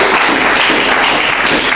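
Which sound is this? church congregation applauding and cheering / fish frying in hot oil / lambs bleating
church congregation applauding and cheering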